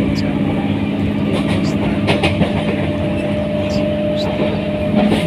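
A Howrah metro train runs on its tracks in hot weather, heard from inside the carriage as a loud, continuous rumble with faint rail clicks and some people talking.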